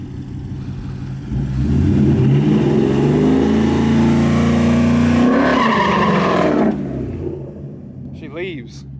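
A car engine revs hard and builds to a roaring burnout for several seconds, tire spinning with tire pressure a little high, then drops off; voices are heard near the end.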